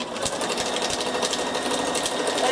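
A sewing machine running a long zigzag stitch through aluminium can, with a loud, fast, continuous rattling hum and no break.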